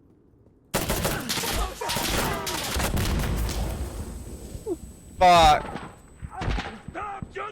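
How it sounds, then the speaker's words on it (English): Gunfire in the tactical shooter Insurgency: Sandstorm, loud bursts of rapid shots and a sharp close volley near the middle, mixed with players talking and swearing over voice chat. "Stop shooting! Stop shooting me."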